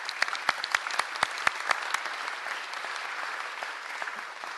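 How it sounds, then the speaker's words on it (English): Audience applause at a BPW public meeting, with sharp individual claps standing out early over a steady bed of clapping that carries on evenly to the end. "So if we could have a round of applause."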